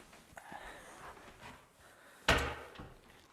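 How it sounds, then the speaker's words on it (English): A door swings shut in an attic with a single sharp thud after a stretch of quiet rustling, the close knock standing out clearly. "Just close the door."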